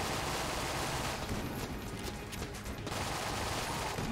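Rapid-fire gun bursts from the top-down roguelike shooter Enter the Gungeon, a dense, continuous wash of shots that thins briefly midway, steady and loud with no talk over it.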